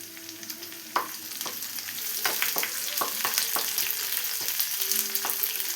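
Shallots and curry leaves fry in hot coconut oil for an ivy gourd curry, a steady close sizzle with occasional sharp spits and pops, and no talking.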